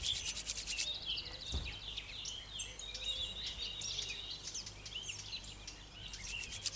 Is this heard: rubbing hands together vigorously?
yes